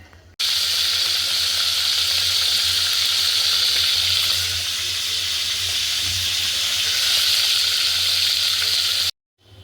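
Dal being tempered with spices in hot oil in a kadai in a home kitchen gives off a loud, steady sizzle and hiss that runs unbroken, then cuts off abruptly at the end.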